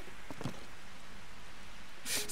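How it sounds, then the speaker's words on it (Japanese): Steady rain falls in a marsh area in Zelda: Tears of the Kingdom, a continuous hiss with a few soft footstep-like taps early and a brighter burst near the end. "そうか、雨降ってるから。"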